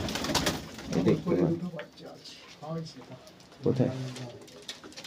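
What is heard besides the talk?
pigeons cooing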